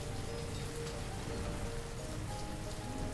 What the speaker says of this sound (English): It rains constantly.